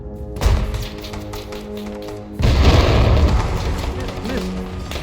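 A loud, deep boom of an anti-tank weapon firing in the video game Arma 3, followed by a rumbling blast that lingers and fades; an earlier thump precedes it.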